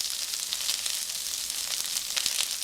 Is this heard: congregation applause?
no